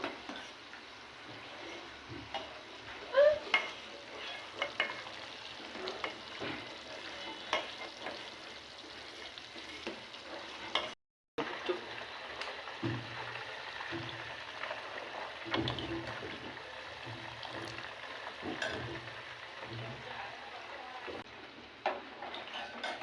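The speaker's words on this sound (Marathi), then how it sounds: "तुम्हाला चम्मच सारखं फिरवत राहावं लागेल कारण हे आजूबाजूला लागतो" Butter simmers into ghee in a pan with a soft continuous sizzle, while a spoon stirs and scrapes with occasional clinks, faint and steady throughout.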